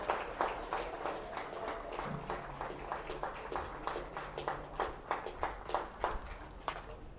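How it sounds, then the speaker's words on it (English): Faint, distant applause rises from a crowd at a high school baseball game to honor the Heritage High School senior class, with a few sharper, closer claps scattered through the steady patter. "Can we get another round of applause for the 2025 Heritage High School Baseball Senior"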